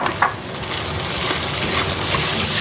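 Onion sizzles and scrapes in a hot wok with garlic, Pixian chili bean paste and chopped chili, a loud continuous frying hiss with stirring clatter, close and alone.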